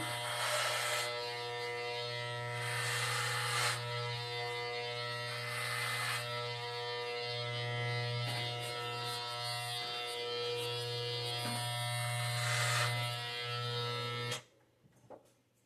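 Electric clippers buzz steadily and close up while shaving a head down to basic-training length, a continuous hum with slight shifts as the blades move, ending abruptly when switched off.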